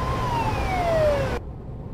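Police car siren in Euro Truck Simulator 2, a loud wailing tone sliding downward in pitch over engine rumble, cutting off abruptly partway through and leaving the low drone alone.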